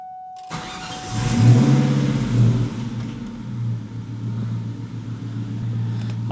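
A Mustang V8 on a new exhaust and IAC valve cranks to life, revs up, then settles into a steady, rumbling idle close by, with no talking.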